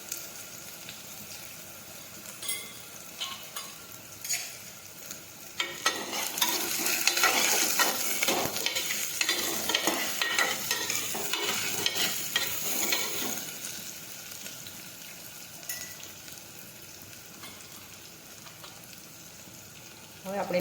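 Ridge gourd and potatoes fry in hot oil seasoned with mustard seeds and asafoetida, giving a steady crackling sizzle that swells as a spoon stirs and scrapes the pan, then settles back to a quieter hiss.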